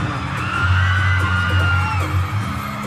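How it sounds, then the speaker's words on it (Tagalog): A large crowd at a mall fan event shouts and screams loudly and continuously, a dense roar of voices with a low sustained tone running underneath. "sa sobrang lakas ng hiyaw ninyong lahat, hindi ko narinig yung kanta ko"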